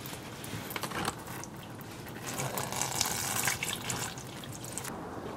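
Coolant pours out of a Honda Civic Del Sol into a drain pan underneath, a continuous splashing liquid stream that swells and fades, close by with no speech.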